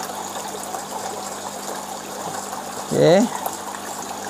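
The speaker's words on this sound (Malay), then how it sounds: "Air semakin laju sebab pada tangki utama mewujudkan tekanan." Water flows steadily into the sump tank of a tilapia recirculating aquaculture system, a continuous low trickling rush that runs throughout while someone speaks briefly near the end.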